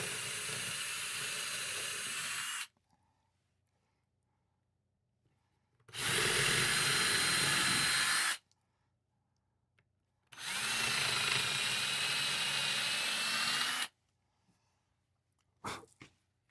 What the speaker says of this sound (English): I'm going to pre-drill the holes